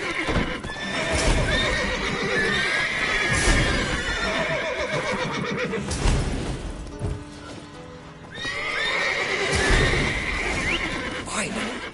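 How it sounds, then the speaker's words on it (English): Horses in The Witcher III whinny and neigh repeatedly, with hooves clip-clopping and shuffling close by in a tense game scene; brief voices and game sounds come between the calls. "Calm the horses."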